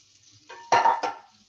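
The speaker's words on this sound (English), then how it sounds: "Cold water going in the pot" Cold water poured into a cooking pot for boiling potatoes, a short splashing gush that rises suddenly, surges for about half a second and then tapers off.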